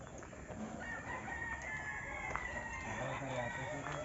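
Roosters crow at a gamefowl farm in Alaminos, Laguna, several calls overlapping and drawn out at moderate distance over a steady outdoor background, with occasional clucking nearby.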